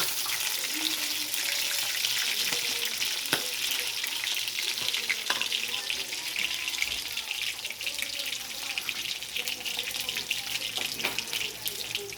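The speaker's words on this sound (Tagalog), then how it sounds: "Tumatalsik kasi kaya nagprito." Tilapia frying in hot oil, a steady crackling sizzle with scattered sharp pops of spattering oil, continuous and fairly close, with a few faint voices in the background.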